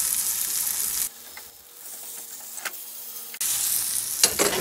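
Largemouth bass fillets fry in a pan with a loud, steady sizzle that drops to a quieter crackle for a couple of seconds before surging back at full strength.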